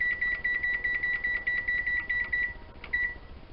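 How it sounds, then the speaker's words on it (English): A kitchen timer is set for 15 minutes while making homemade vinegar cheese, giving a rapid run of short, high, evenly spaced electronic beeps close by, then a brief pause and one more beep. "So I'm going to set my timer for 15 minutes."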